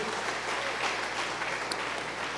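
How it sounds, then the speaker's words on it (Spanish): A church congregation claps together in dense, sustained applause, fairly close and steady across the whole stretch, with no speech over it. "Fuerte las palmas al Rey de Reyes."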